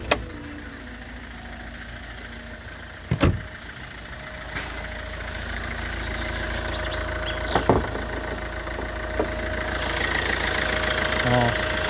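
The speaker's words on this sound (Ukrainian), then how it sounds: "дизеляка заводиться робить устойчиво" The 1.6-litre CRDi diesel engine of a 2006 Kia Ceed idles steadily nearby, a low rumbling drone with a rhythmic knock, punctuated by a few sharp clanks and taps.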